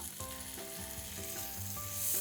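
Cubed potatoes drop into browning onions frying in a pan for Bengali-style ghugni, a steady close sizzle with brief stirring scrapes, growing slightly louder toward the end.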